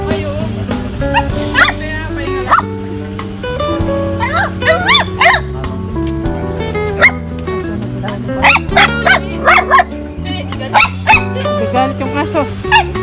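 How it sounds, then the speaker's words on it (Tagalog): An agitated dog barks and yips in bursts at a house in a forest, sharp repeated barks scattered over a sustained background of music and voices. "Gagalit yung aso."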